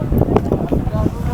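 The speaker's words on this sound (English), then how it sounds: "It's quite windy" Strong wind buffets the microphone in a low, steady roar at Attabad Lake in northern Pakistan, with faint voices of tourists underneath.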